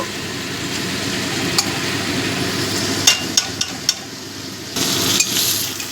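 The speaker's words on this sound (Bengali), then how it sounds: "এবার পেঁয়াজটাকেও একটু ভেজে নেব।" Onions fry in a pan for a spicy fish curry, giving a continuous soft sizzle punctuated by a few sharp spatula knocks against the pan, with a louder burst of frying near the end.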